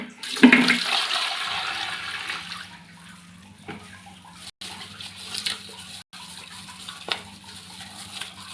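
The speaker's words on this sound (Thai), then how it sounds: "เทน้ำทิ้งแล้วก็เอาน้ำใหม่นะครับ" Water poured out of a container and fresh water added while rinsing salt from tilapia for Thai fermented fish: a loud splashing gush at the start, then quieter trickling and handling sounds.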